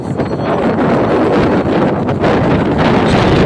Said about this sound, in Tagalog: Sarap po, lakas ng hangin.